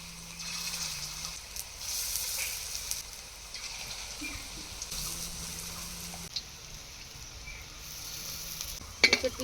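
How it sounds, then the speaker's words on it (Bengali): Malabar spinach fritters coated in gram flour frying in hot oil in a wok, a continuous quiet sizzle with occasional soft clinks and a few louder bursts at the very end. "তেল গরম হয়ে গেছে এইবার আমি পুঁই শাকের বড়াগুলোকে করে নেবো"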